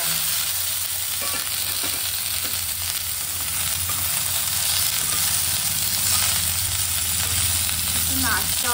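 Vegetables for sukto fry in a pan with a dense, continuous sizzle and intermittent stirring scrapes, steady and fairly loud throughout.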